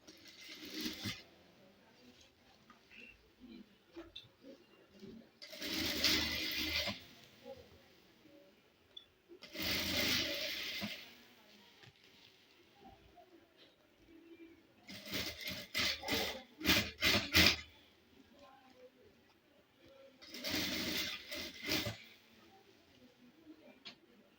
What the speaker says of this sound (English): And then we start stitching all along the edge here.